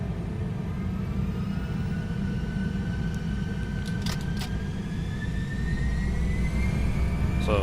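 Airbus A319 jet engines spooling at takeoff thrust in X-Plane 12, a loud steady roar with rising whine tones, heard alone and constant throughout.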